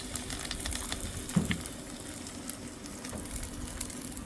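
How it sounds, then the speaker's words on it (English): Garlic and onion frying together in a hot pot, giving a soft, continuous sizzle with a few small pops and a brief clink partway through. "So now I'm going to add the garlic"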